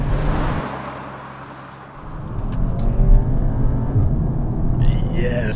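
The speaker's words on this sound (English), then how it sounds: "Yes, you can feel upshift farts. You're going to get some burbles on the overrun as well." Porsche Macan S or CUPRA Ateca driven on the road, engine rumbling steadily with occasional crackles that fit upshift pops and overrun burbles from the exhaust, heard from inside the car.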